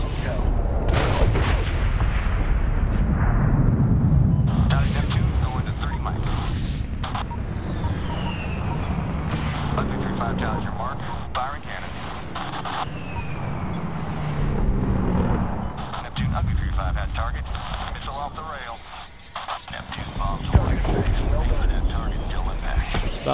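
Bombs exploding during an air strike on Bagram in Medal of Honor (2010), heavy booms and rumbling blasts rolling one after another with aircraft noise, loud and dense while voices talk over the barrage.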